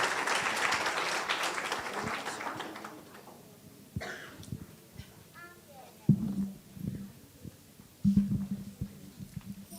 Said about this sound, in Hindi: अपनी भरपूर तालियों में हम इन बच्चों को दावत देते हैं